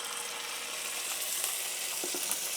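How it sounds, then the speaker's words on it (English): Minced ginger sizzles steadily in hot, caramel-colored brown butter in a pan, a continuous close hiss with a few small pops near the end. "Once you get it to there and it's nice and hot, drop some minced ginger in there."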